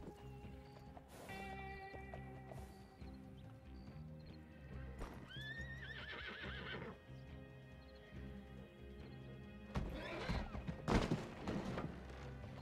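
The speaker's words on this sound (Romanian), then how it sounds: "ia-ți calul de aici, te rog, că se urcă peste noi." Horse in the FiveM video game neighing repeatedly with loud whinnies while hooves clop steadily nearby, punctuated by a few thuds toward the end.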